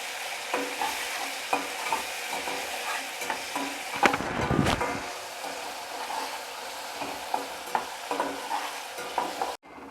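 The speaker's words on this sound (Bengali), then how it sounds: "পেঁয়াজটা এখানে 2 মিনিট আমি লাল করে ভেজে নেব" Two chopped onions fry in a pan with a constant crackling sizzle, stirred with repeated scraping strokes and one louder surge partway through, and no voices.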